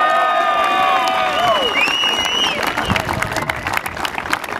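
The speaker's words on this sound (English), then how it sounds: "let's hear one more round of applause for these three great Norse seniors" Stadium crowd at a men's college soccer senior day applauds and cheers loudly and steadily, with whistles and shouts rising over continuous clapping as a PA voice rings out faintly at the start.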